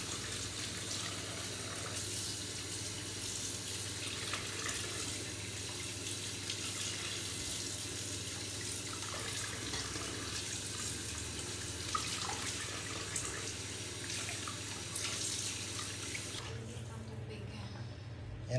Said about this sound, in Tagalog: Lalagyan na lang natin ng mainit na tubig.